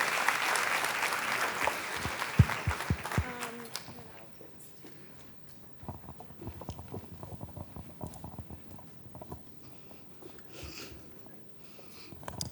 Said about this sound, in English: I just want to thank her again and give her another round of applause.